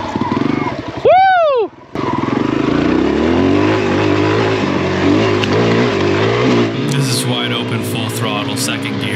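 A vehicle engine revs hard under heavy acceleration on a first traction test, loud and close, with a brief whine-like sweep early on, while people talk and cheer over the sustained roar.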